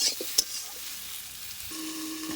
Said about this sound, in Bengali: দেখুন বন্ধুরা, সবজিটা অনেকটা ভাজা ভাজা হয়ে গেছে